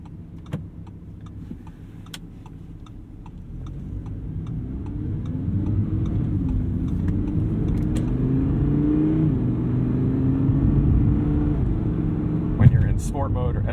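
A deep 5.2-liter V10 sports car engine idles and then builds into a sustained, rising rumble as the revs climb, with a brief sharp rattle near the end.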